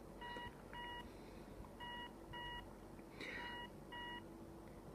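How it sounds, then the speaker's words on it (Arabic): A five-zone burglar and fire alarm panel gives a run of short electronic beeps in evenly spaced pairs and singles, clear and steady against a quiet room hiss. "بفتح جهاز الإنذار بيعطيني صوت بيب"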